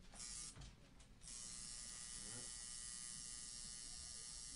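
Steady electric tattoo machine buzz, a continuous close whirring hum that starts after a short stuttering start, with a soft voice talking over it.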